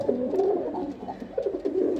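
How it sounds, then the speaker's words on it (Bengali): A male pigeon coos repeatedly up close, low throaty rolling calls in a steady rhythm, with no talking over it. "এই যে দেখুন নর কবুতর কীভাবে ডাকে।"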